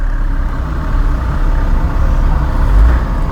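A car engine idles right after start-up, a close, steady low rumble with a slight swell near the end and no talk.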